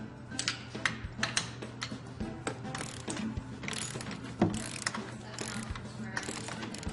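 A torque wrench ratchets and clicks as it drives a bite tester through a rusty car hood, a close, uneven series of sharp mechanical ticks and creaks with no voices.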